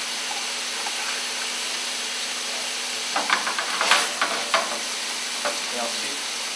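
Crème fraîche sauce simmering in a pan in a chef's kitchen, a steady close sizzle and bubbling hiss with a cluster of crackling pops and stirring scrapes midway.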